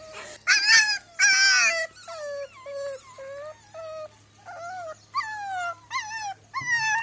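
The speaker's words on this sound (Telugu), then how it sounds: "ఏ అరవాకు అరవాకు" A street puppy howls, whimpers and yips in repeated drawn-out cries, loud and close, with brief pauses between calls and a low steady hum underneath.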